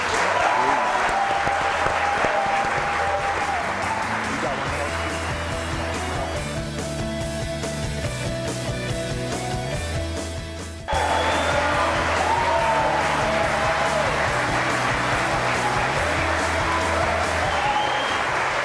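Studio audience at a live TV sports show applauding and cheering, a dense sustained clapping roar with whoops that continues loudly throughout, while background music plays underneath.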